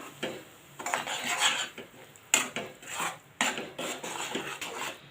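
A spoon scrapes and stirs a paste of ground onion and coconut with ginger and garlic in a pan, producing close, repeated metallic scraping strokes in an uneven rhythm, with no voices.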